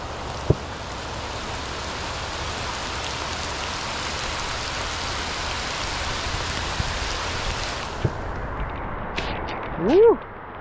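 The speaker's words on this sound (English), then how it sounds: "Look at the downpour right now." A heavy rain downpour pounds the ground and water at an outdoor fishing spot, a dense steady roar of drops up close, with a few sharp knocks and a brief rising noise near the end.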